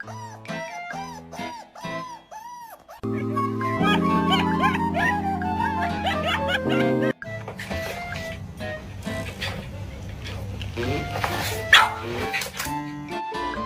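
A dog gives a run of short, high yelping barks up close, then louder mixed sounds take over.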